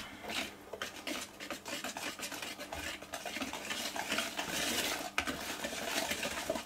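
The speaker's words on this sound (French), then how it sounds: "Voilà, on va mélanger." Chocolate brownie batter with nuts being stirred in a bowl, a steady scraping and clinking of utensil against dish that runs continuously and fairly close, with no talk.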